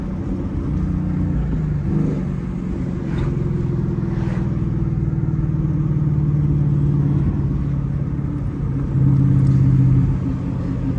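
A Ford Mustang GT 5.0 cutting through traffic at speed, its engine holding a deep, steady droning rumble from inside the car that rises and falls with throttle and swells louder near the end, with no talk.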